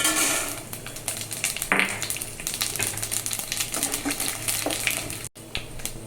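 Tempering seeds for semiya upma hitting hot oil in a pan along with cashews and curry leaves, a steady close sizzle and crackle with small pops and a few clinks of a utensil.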